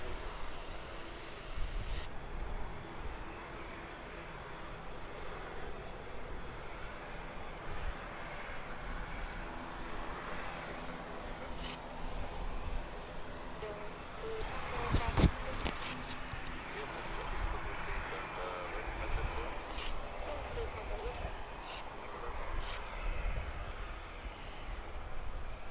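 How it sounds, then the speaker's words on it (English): Distant, faint engine rumble from a Logan Air aircraft taxiing at Birmingham Airport, a steady low drone heard through outdoor ambience with a brief sharper transient partway through. "We have got a Logan Air taxiing out"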